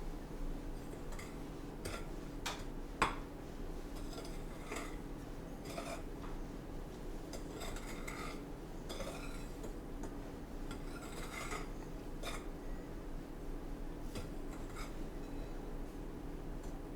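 Biscuit dough ingredients are stirred together in a bowl, giving close, soft scraping, rubbing and tapping sounds with occasional sharper clinks of a utensil against the dish, steady over a quiet background.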